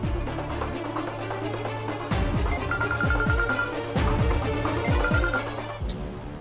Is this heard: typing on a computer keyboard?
no